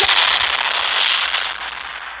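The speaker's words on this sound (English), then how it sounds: "All these explosions. 2 bombs." Dense, continuous crackling roar of bomb explosions from an airplane physics video game, loud and steady, fading slightly toward the end.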